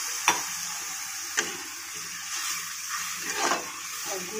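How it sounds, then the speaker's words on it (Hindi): Water poured into a pan of frying mango pieces, giving a steady hiss and soft bubbling sizzle with a few sharp clinks of utensil against the pan. "पानी मिला रही हूँ।"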